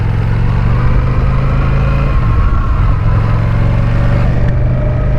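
An Indian Chief motorcycle engine with an aftermarket Vance & Hines exhaust idles with a steady, fairly quiet low rumble, holding an even pulse throughout with no talking.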